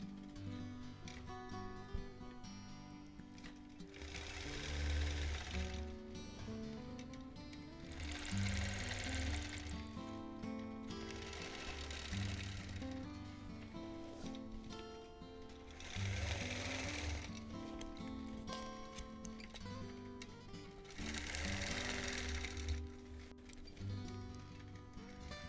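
A longarm quilting machine stitches ruler work on a Double Wedding Ring quilt topper, a steady close mechanical hum with rapid needle ticking that swells louder in repeated bursts over continuous running.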